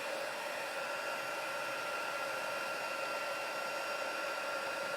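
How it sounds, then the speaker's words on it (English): A heat embossing tool blows hot air for a craft project, giving a loud, steady, continuous whirring hiss like a small hair dryer, held close with no talk. "So I'll just heat emboss this. Forgive the noise."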